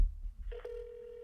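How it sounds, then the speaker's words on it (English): A telephone line clicks and tones as a call is placed, followed by a single steady dial tone holding clear and close with a faint low hum underneath. "let me give you just a regular standard phone call"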